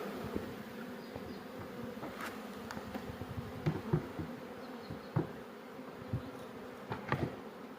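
A swarm of honey bees buzzes at an apiary, a continuous low droning hum with scattered louder passes of individual bees and small clicks, fairly quiet and distant, with no talking.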